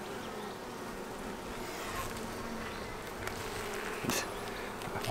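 Honeybees buzz densely and continuously at an open hive kept by hobby beekeepers, with a male drone among them; a close, even hum with a few louder passes near the microphone.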